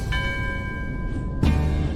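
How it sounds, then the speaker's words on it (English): An underwater bell struck at a Shinto shrine beneath the sea to call fish rings with a clear sustained tone, followed by a second muffled strike near the end. "He calls the fish by hitting the underwater bell."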